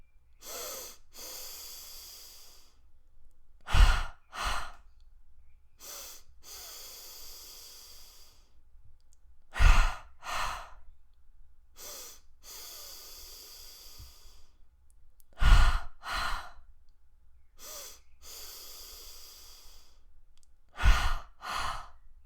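Cosmic double breathing into belly and chest, done by a single person up close: a repeating pattern of two quick, forceful sniffing inhales followed by long, breathy hissing exhales, cycling several times with pauses between.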